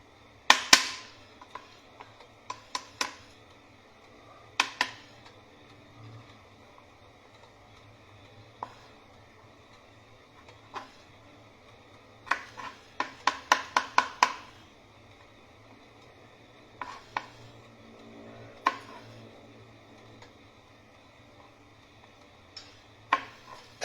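Garlic chopped with a knife on a board in a home kitchen: irregular clusters of sharp, close taps, some quick runs of several strikes, with quiet gaps and a low steady hum beneath.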